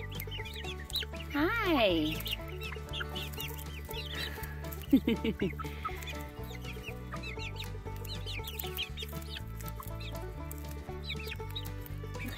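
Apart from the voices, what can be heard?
baby chicks clucking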